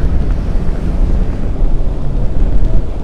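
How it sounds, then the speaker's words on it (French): Heavy wind buffeting the microphone, a constant loud low rumble with gusty fluctuations and no other clear sounds. "Il y a beaucoup de vent. J'espère que vous arrivez à entendre."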